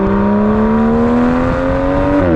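An Aston Martin DB11 V12 pulls hard at full throttle, its loud, smooth engine note rising steadily in pitch, then dropping briefly as it shifts near the end.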